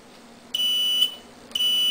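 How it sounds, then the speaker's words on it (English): Sharp high electronic beeps from a .223 reloading powder check signalling an overcharged case, a steady tone cutting in and out twice over a faint hum. "you would hear an audible beep"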